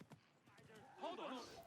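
Horse hooves clopping in a steady rhythm as a rider crosses a wilderness region in a mobile video game, mid-loud and close, with game music and voices mixed around them.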